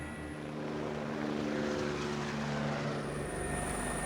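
Steady, loud engine and rotor drone from inside a helicopter in flight, a continuous droning roar that fills the whole span with no talk over it.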